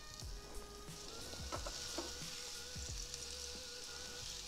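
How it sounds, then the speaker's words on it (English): Quiet, continuous sizzling and crackling of peaches on a hot Ninja Foodi indoor grill, with faint occasional taps and clicks. "You're gonna hear the sizzle."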